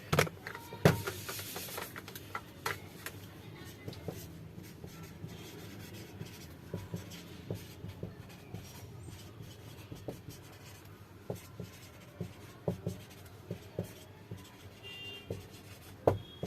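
Marker strokes scratch across a board during a lesson on arrays, short squeaky taps and rubs recurring irregularly over a quiet room background with no speech.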